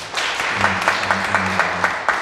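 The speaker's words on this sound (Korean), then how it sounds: "우리 박수 환영하도록 하겠습니다." Korean church congregation clapping to welcome visiting members during a Sunday service, a brief burst of many hands with distinct rhythmic claps standing out over a low sustained hum, close and fairly loud.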